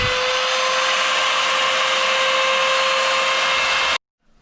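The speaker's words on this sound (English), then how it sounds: "I've just got a little round over bit in the router, which I'm just going to not really round it, but just take the sharp edge off it" A router with a small round-over bit runs along the edge of birch plywood, making a loud steady high-pitched whine and cutting noise for about four seconds before stopping abruptly.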